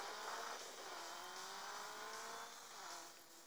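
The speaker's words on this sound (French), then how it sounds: "Le son se marie bien avec la voiture" In the Rally Fury racing game, a rally car engine drones in a steady, slowly climbing pitch that dips briefly and rises again, loud and sustained, with no talk over it.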